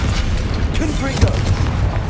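A booming blast from the Confringo fire spell in Hogwarts Legacy, a dense rumbling burst with crackling pops, close and loud, with a voice calling out over it.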